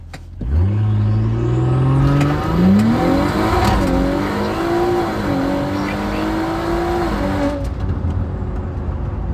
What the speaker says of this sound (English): Loop around and go for another boosted launch.